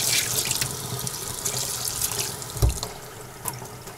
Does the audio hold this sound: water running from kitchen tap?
yes